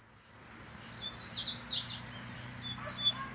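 A coleiro seedeater chirps outdoors, quick high, thin notes in faint bursts over a steady low hum, with a fast ticking insect-like pulse running throughout.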